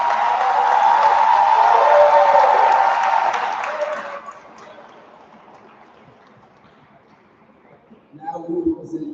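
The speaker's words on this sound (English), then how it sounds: "Can we please give them one more round of applause?" Loud round of audience applause at a school promotion ceremony, dense clapping and cheering for about four seconds, then fading into quiet room murmur before a voice speaks.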